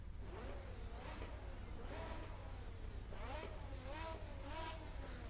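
A Formula Hybrid X 2021 open-wheel race car from the RSS mod in Assetto Corsa drones steadily with a thin engine note and a light rasp, while a voice talks over it throughout.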